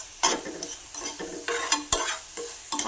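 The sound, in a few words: stirring jackfruit dumpling mixture in a pan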